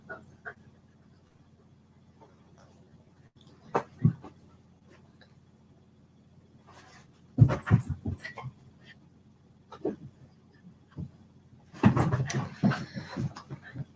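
A puppy moves around and gives soft whimpers, with scattered thumps, scratches and rustling close by, and several louder bursts of scrabbling activity between quiet stretches.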